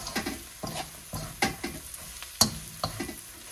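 Fried eggs are stirred into a mix sizzling in a frying pan, a series of sharp spoon scrapes and clinks at an irregular rhythm over a soft, steady frying hiss.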